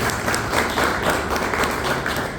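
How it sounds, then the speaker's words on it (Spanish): An audience at an evening talk at a club applauds, a dense, steady burst of clapping from a crowd that fills the short moment without pause. "Un aplauso, por favor, para nosotros."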